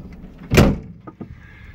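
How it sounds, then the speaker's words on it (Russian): A ZAZ-965 car door flies open while driving with one sudden clunk and rattle, then a couple of lighter knocks against a low rumble of road noise. "Дверь на ходу открылась."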